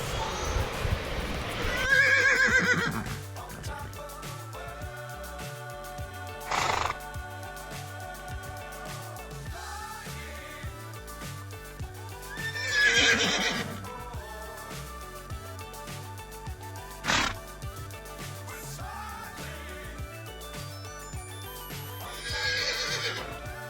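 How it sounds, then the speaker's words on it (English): A horse whinnies loudly in three separate calls spaced across the stretch, with a steady rhythmic clip-clop of hooves running underneath throughout. "Horse."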